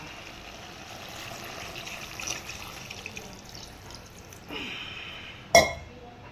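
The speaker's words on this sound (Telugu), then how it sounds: "ఇప్పుడు వాటర్ పోసుకోవాలి. వాటర్ ఇవ్వండి." Water is poured into a pot of goat head curry, a quiet trickle rising to a fuller splash before a sharp metallic clank from the vessel, with no talk.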